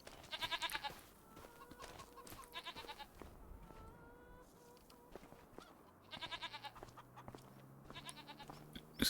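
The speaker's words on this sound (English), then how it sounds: "And our goats, how are they doing?" Goats in a Farming Simulator 25 farmyard bleat in several short, wavering bursts spaced across the scene, with faint ambient farm sounds between calls.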